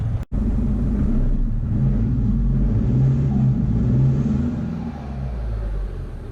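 A sharp click, then a 2018 Chevy Colorado pickup's diesel engine is remote started, rumbling to life and idling with a low, steady drone, close by.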